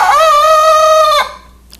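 Silkie rooster crowing at night indoors in the dark, one loud close crow held for about a second before cutting off, followed by quiet.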